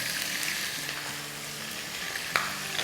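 Crushed garlic and green chilies sizzling in hot oil in a pan, a steady broadband frying hiss with light stirring scrapes and a sharper clink near the end, close and without voices.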